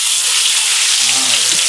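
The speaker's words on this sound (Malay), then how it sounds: "ikan ni nak goreng" Fish dropped into hot oil in a wok-style pan, a loud continuous sizzle and crackle of frying filling the whole stretch, close up and with no talking.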